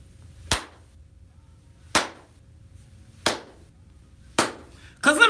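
Four slow, deliberate hand claps spaced about a second and a half apart, each a sharp isolated smack in a quiet studio on a morning radio show, with a brief burst of other sound right at the end.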